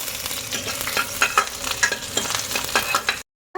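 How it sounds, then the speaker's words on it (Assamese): Chopped onion and bay leaves frying in hot oil in a pan, with a steady close sizzle and repeated scraping stirs, then a short cut to silence before the sound returns. "গৰম হ'লে দুখিলা তেজপাত দি দিছোঁ আৰু দিছোঁ অকণমান কাটা পিঁয়াজ কাটি ৰখা।"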